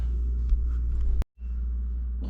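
A 1965 Mustang engine with header exhaust rumbling on a test drive, a deep steady low drone, close and loud, broken by one sharp click and a brief dropout before the rumble resumes.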